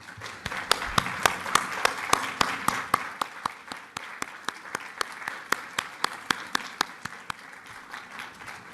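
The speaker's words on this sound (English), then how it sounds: "a quick round of applause" An audience applauds with steady clapping, sharp individual claps standing out over the dense patter, fading slightly toward the end.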